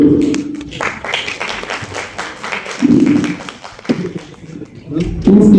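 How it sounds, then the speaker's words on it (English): Scattered audience clapping at an AI summit certificate awards event, with sparse, uneven claps and thuds heard close by and voices speaking at intervals. "Please clap for this one."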